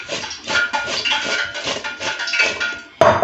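Okra (bhindi) being stirred with turmeric and spices in a metal bowl, busy rattling scrapes and clinks of a spoon against the dish, close and fairly loud, no talking.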